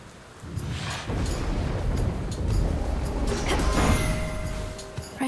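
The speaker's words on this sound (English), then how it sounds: "Raining again." Rain and distant thunder in the video game Hades II, a dense, steady hiss of rainfall over low rolling rumbles that swell and fade across a few seconds.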